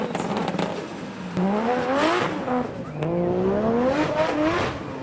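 A nearby 100-horsepower Fiat Panda engine revs up twice at a car meet, pitch climbing through each acceleration with some crackle and background crowd noise.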